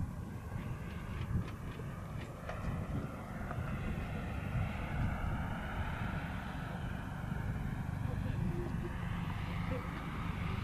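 Twin DA Desert Aircraft 150 engines power an RC tow plane at an aerotow event, giving a steady, fairly distant drone that holds throughout with some broadband wind-like noise and faint background voices.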